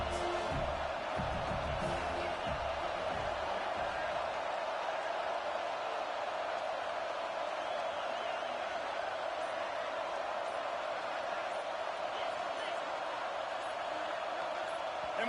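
Stadium crowd at a USC vs UCLA college football game, a loud constant roar of thousands of fans filling the air throughout, with a commentator talking over it.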